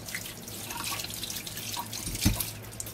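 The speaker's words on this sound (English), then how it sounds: "Now, I wash my hands again." Running tap water splashing over hands at a kitchen sink while butter is washed off, a steady soft wash of water with one brief louder splash near the end.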